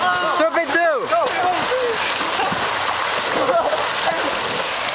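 Several young men fall and splash into water outdoors, with loud splashing and sloshing up close while voices shout and call out excitedly over the turbulent water.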